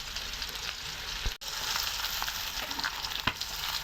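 Frying for egg biryani: a steady, close sizzle with scattered crackles and pops, and a brief stirring scrape and clunk partway through, with no talking.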